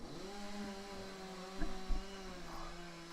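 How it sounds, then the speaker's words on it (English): Chainsaws run outdoors and are heard from inside a house as a faint, steady droning whine with a few soft thumps, muffled and distant throughout. "I'm not sure if these chainsaws are unnaturally loud for you guys"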